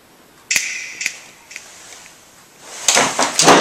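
Several sharp finger snaps ring out close by, spaced about half a second apart, followed by a cluster of louder clicks and rustling.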